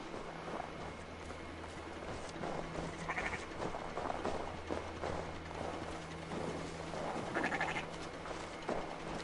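Sheep bleating inside the video game Assassin's Creed Valhalla, a few short bleats rising over a steady droning ambient bed with soft clattering and mechanical noise, no voices.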